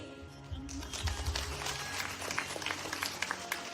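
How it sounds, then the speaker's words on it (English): Faint, distant applause from an audience at a leadership award ceremony, a soft continuous patter of clapping with scattered sharper claps over low room noise. "So I want to applaud Miss Charmaine Robisky"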